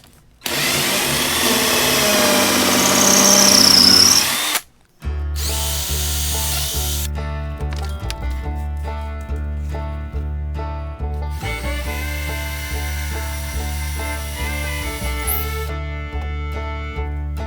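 A power drill boring bolt holes into a deck wall panel, a close, loud steady whine that cuts briefly and restarts, running continuously with shifting load.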